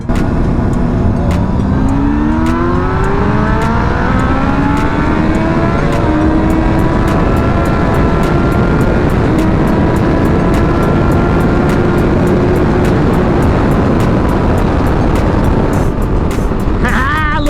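A 1000cc and a 600cc motorcycle accelerate hard in second gear from a 40 roll, their loud, close engines rising steadily in pitch as they rev, with a continuous roaring drone under wind noise.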